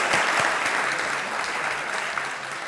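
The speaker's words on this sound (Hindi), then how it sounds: "तालियां हो जाए एक बार फिर से।" Studio audience on a TV talk show breaks into sustained, dense applause, loud and even throughout, with no talk over it.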